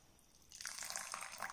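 Liquid from boiled spinach soup pours through a strainer, starting quiet and then turning into a steady, close splashing trickle that lasts about a second.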